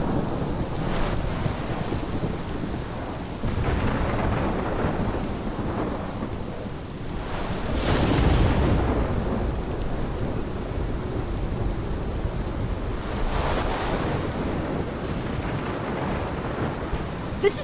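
A thunderstorm from the Life is Strange video game, with steady heavy rain and rolling thunder that swells in a loud rumble midway and again near the end.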